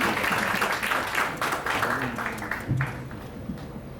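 Applause welcoming the university president at an alumni association president's inauguration ceremony: fairly close, moderately dense clapping that starts strong, thins and tapers over a few seconds, with faint murmuring beneath.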